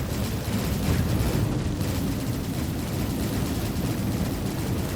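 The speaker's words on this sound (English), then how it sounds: "launch some missiles first, do a bit of damage, and then open up with all my guns" Missiles and heavy ship guns fire at an enemy ship in the Star Citizen space game, a dense, steady rumbling barrage of booms and blasts that holds loud and continuous with no talking.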